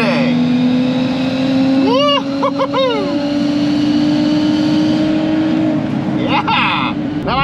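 A drag racing car launches hard down a quarter-mile strip on a hot day, a loud sustained engine roar climbing steadily in pitch, with sharper revving bursts from another engine mixed in and a person talking over it.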